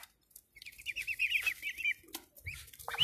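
Ducks kept in summer, a few short squeaky quacking calls in quick bursts, close but faint, with quiet gaps and some background rustling.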